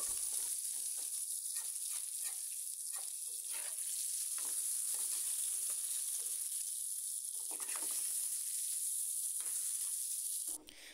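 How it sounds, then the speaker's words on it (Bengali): Potatoes fry slowly over low heat in a pan with salt and turmeric, giving a steady, crackling sizzle that holds at an even level for about ten seconds. "এবার এটাকে লবণ হলুদ দিয়ে বেশ ভালো করে আস্তে করে জাল দিয়ে অনেক সময় ধরে ভালো করে আলুটাকে ভাজবো"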